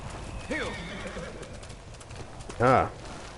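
A horse in a video game whinnies twice, a short neigh early and a louder, fuller one near the end, over faint background noise.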